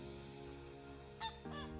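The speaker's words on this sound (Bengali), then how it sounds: "দেখুন এই রাজহাঁসগুলো" Domestic geese kept at a rural homestead honk repeatedly, nasal overlapping calls heard fairly close and steady, with a couple of sharper honks near the end.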